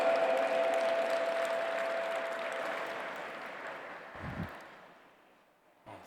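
Audience at a G20 Interfaith Forum session in Pune applauds to welcome a speaker; steady dense clapping that gradually fades out, with a couple of brief thumps near the end.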